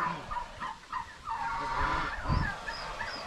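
Turkeys gobble in several bursts on a farm kept with rabbits, rapid warbling calls repeating close by over a quiet background.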